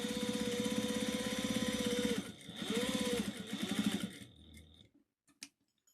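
Sewing machine basting around a pot holder made from a Simplicity pattern, its steady motor whir running in continuous bursts with brief pauses and speed dips, close and fairly loud, ending in a few faint clicks.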